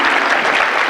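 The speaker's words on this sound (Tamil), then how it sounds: "சோ கிட்ஸ்க்கு ஒரு பெரிய கைத்தட்டல் கொடுத்துடலாம்." An audience at a children's comedy program claps loudly and continuously, a dense wash of applause that fills the whole moment.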